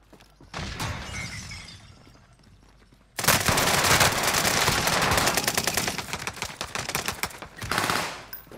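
Dense automatic gunfire from the Call of Duty: Rebirth video game: a quieter stretch of distant shots, then loud, sustained rapid bursts with no one talking over them.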